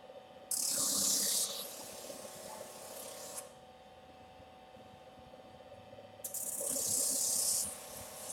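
Medium-grit sandpaper rubbed along the edges of a handmade padfolio notebook: two bursts of brisk, hissing scraping strokes separated by a quieter pause, close but soft, with no talking.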